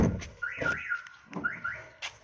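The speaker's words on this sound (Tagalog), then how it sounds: "mag-a-alarm yung sasakyan" A car alarm fitted with a Commuter Deluxe alarm system goes off when someone tries the door, sounding two rapid warbling chirp bursts separated by a short gap.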